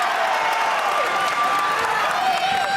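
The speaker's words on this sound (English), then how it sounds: "The crowd goes bananas for Bryce." A high school basketball crowd at a Conway Christian vs. England game cheers and applauds loudly for player Bryce Keithley, a steady roar with clapping throughout.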